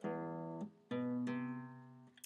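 A bass line plucked on guitar: three low notes, each ringing and fading before the next, played alone.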